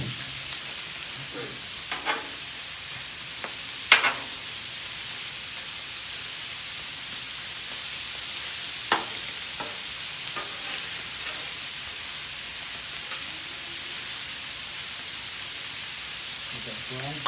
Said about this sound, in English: Let that fry up.